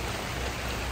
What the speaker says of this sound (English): So it's just non-stop rain here